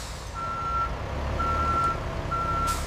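A freight truck at a distribution facility sounds three evenly spaced reversing beeps over its low idling engine rumble, with a brief hiss near the end.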